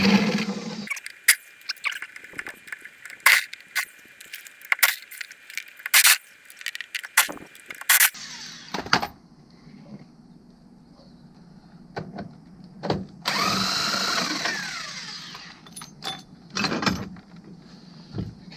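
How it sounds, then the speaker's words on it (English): An impact wrench removing rusted 7/16 inch zinc bolts on a boat: loud bursts of rapid hammering rattle, several short runs and one longer whirring run, separated by clanks and quiet pauses, close by. "so I'm using the impact wrench"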